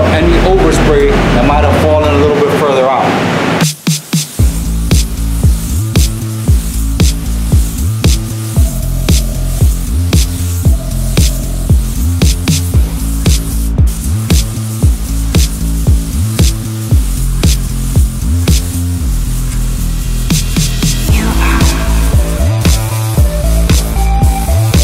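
A spray gun lays red base coat on a car hood for a three-stage red kandy paint job, its hiss pulsing in short repeated passes beneath someone talking throughout.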